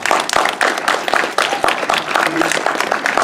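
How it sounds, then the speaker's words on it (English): Audience applause at a Q&A with Kash Hovey and Kathy Kolla, a dense patter of clapping hands filling the room steadily from near to mid distance. "just really a round of applause for"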